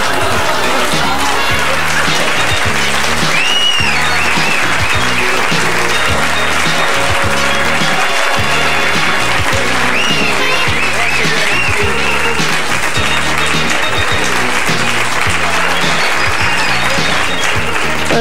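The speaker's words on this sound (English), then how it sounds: "A nice round of applause, Denny Johnson." A comedy club audience at a stand-up show claps in sustained, dense applause, loud and continuous throughout, with a few brief whoops rising above the clapping.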